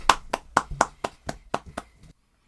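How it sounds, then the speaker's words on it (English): A single person claps by hand, about nine close, crisp claps in an even rhythm, then silence. "Join me in giving her a round of applause."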